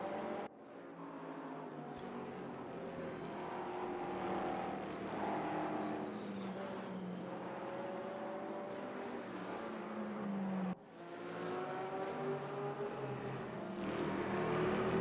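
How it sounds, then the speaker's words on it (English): Onboard race car engine at Sepang in Gran Turismo, a sustained loud motor drone with shifting tones and other cars passing close by, one brief dip near the middle. "we do get some onboard traffic sounds"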